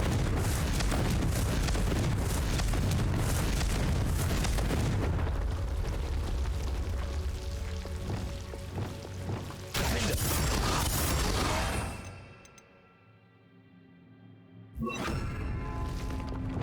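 The Confringo blasting spell in Hogwarts Legacy, a long loud roaring burst that fills several seconds, cuts off, then returns with crackling debris and ringing tones, ending in a brief quiet gap and a final blast.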